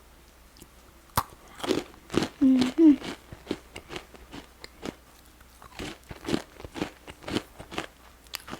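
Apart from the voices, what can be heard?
biting and chewing crispy whole wheat bread ball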